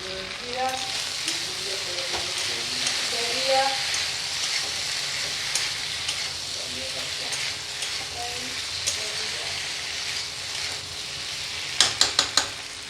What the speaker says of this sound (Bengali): কাঁচা লঙ্কা, টমেটো কেটে রেখেছি, দিয়ে দিচ্ছি